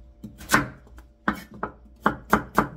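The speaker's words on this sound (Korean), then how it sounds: "무를 썰어서 500g만 준비하겠습니다." Autumn radish being chopped with a knife on a cutting board, sharp close thuds in irregular clusters of single strikes and quick pairs, with no voices.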